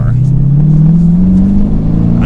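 A 2022 Dodge Challenger R/T with a manual gearbox drones loudly and steadily while driving, its engine pitch climbing slowly as it pulls, with a voice talking over it.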